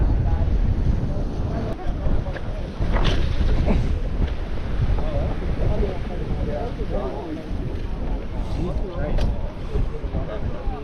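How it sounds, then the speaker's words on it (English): Wind blows hard across a fishing pier, a rough, gusting roar buffeting the microphone while people talk intermittently and occasional knocks and clicks sound nearby. "The wind still pulled it too much away from them."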